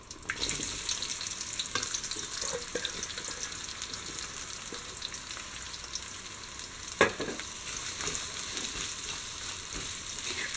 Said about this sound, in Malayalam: അതിലേക്ക് നമ്മൾ അരിഞ്ഞു വെച്ചിരിക്കുന്ന സവാള ആഡ് ചെയ്യും